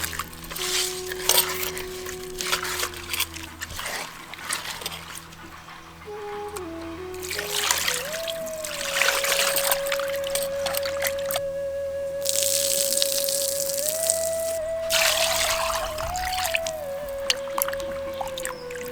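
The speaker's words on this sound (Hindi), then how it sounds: "अब मछली को अच्छे से धोना शुरू करें" Cut fish is washed with salt and turmeric in water, with splashing and sloshing close by and intermittent bursts of water handling over a steady background tone.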